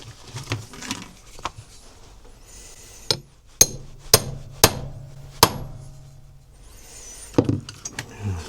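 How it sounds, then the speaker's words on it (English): A one-inch cutter is struck to punch a gasket disc for an Adler MB250 two-stroke motorcycle: four crisp, close metallic hammer blows in fairly even succession, framed by quieter taps and workshop handling noises. "we've got an inch cutter here to cut out our disc to start off with"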